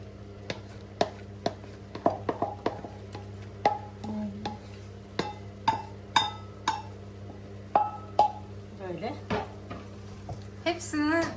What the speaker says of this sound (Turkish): Şöyle eti biraz kavurdum. Şimdi soğanları ilave ediyorum.